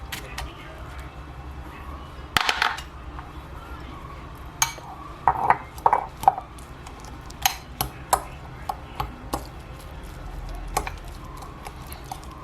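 Carrot, cucumber and spring onion kimchi being mixed with sesame oil in a bowl, giving scattered clinks and taps of a utensil against the dish, close but modest over a low background hum.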